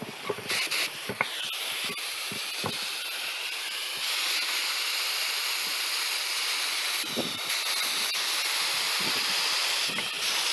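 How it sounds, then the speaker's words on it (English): A steady, close hiss of a spray gun at about 30 psi laying down clear coat on a truck part, continuous with a few brief pauses and clicks. "We're going to spray some clear."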